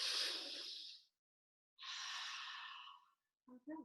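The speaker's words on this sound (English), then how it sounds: "Our breath is our anchor." Children and an adult take slow, deep breaths during a mindfulness class for young kids, two long airy exhalations separated by a pause, fairly close, followed by a couple of short breathy sounds at the end.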